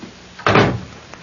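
A door swings shut indoors in a quiet domestic scene, landing as one fairly loud, solid thump with a short decay and no talking around it.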